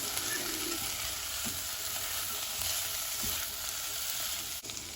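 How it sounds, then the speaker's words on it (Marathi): Chopped ivy gourd stir-fried in a pan for a Goan bhaji, a loud continuous close sizzle with a few faint scrapes of the spoon mixing, no voices. "सगळी कातुल्या तितली घाल आतां आनी बरे भाशेन मिक्स कर."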